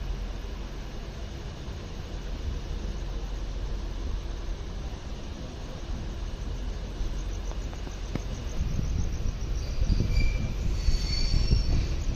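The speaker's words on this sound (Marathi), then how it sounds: "गाडी निघाली आहे संगमेश्वरवरून" A Konkan Railway passenger train leaving Sangameshwar at night gives a steady, even rumble of wheels and carriage noise from inside, growing slightly louder near the end as a faint high squeal comes in.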